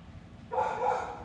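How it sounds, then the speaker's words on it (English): A dog barks in a short, fairly loud burst near a workshop where a 4L80E-equipped OBS truck is being discussed, a couple of quick yaps run together over a low background rumble. "stop your barking"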